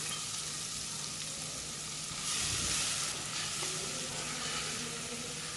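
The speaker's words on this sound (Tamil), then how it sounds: "ஒரே ஒரு வெங்காயம் மட்டும் தாளிக்கிறதுக்கு சேர்த்துக்கலாம்." Onion sizzling steadily in hot oil for tempering a mutton gravy, a continuous close frying hiss that swells briefly midway, with no talk.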